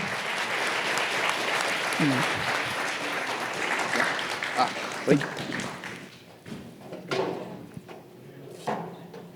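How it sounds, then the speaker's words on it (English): Audience applause at a startup pitch competition, a broad wash of clapping that fills the room and then thins into scattered claps toward the end. "Give a round of applause for Francisco."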